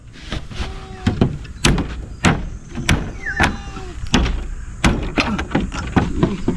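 A wooden door being taken off its frame during home construction work, with repeated sharp knocks, bangs and scraping thuds at close range, irregular and loud, alongside faint background voices.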